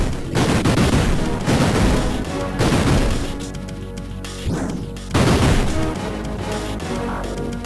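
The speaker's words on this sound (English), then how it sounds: "that is a significant explosion and a punchy sound" Explosions and gunfire from Jurassic Park 2: The Chaos Continues on the SNES come as loud, punchy bursts, one after another in heavy waves with a short lull in the middle, and no voices over them.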